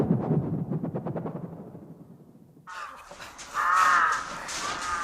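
A crow caws in a radio drama scene: a loud, harsh, close caw bursts in over the second half, following a fading low rumbling swoosh.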